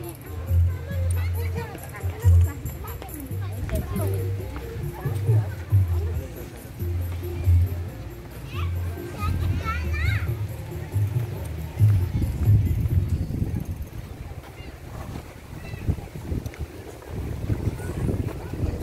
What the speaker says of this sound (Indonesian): Kakak Alif naik kuda.